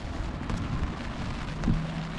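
Steady rain falls outdoors at night near a Florida bridge, a soft continuous hiss of drops filling the background with no voices present.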